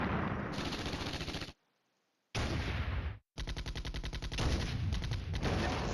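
Loud bursts of gunfire from the war game Flashpoint Campaigns: Red Storm, rapid rattling volleys cut by two short silences, then resuming in a fast rhythmic stream.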